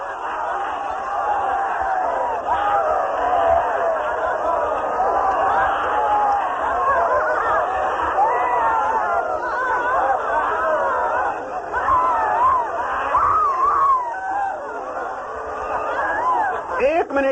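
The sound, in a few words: group shouting and crying out during active meditation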